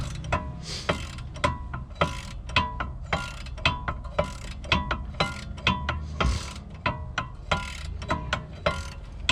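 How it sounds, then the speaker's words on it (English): A ratchet removes the brake caliper mount bolt on a 1997 Cadillac Seville SLS, producing a steady run of crisp, evenly spaced clicks from the pawl, close and distinct, with no talking. "So I'm just removing the last caliper mount bolt right now."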